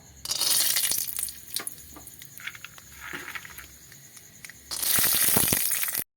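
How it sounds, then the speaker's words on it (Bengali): Peanuts frying in hot oil in a wok: a loud hissing sizzle at the start, quieter crackles and pops in the middle, then a strong sizzling surge before it cuts off. "কড়াইতে তেল দিয়ে দিয়েছি আমি এই চিনে বাদাম কটা কড়াইতে দিয়ে দেব"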